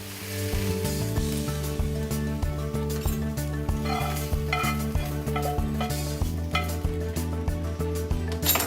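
Sausage stirred into creamy saffron risotto in a pot, a spoon scraping and clinking against the pot in a repeated rhythm under steady music, close and clear.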